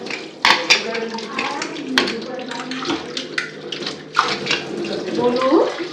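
Dishes and utensils clatter and knock while being washed under a running tap in a home kitchen, with steady water flow and sharp repeated clinks close by, and some voices underneath.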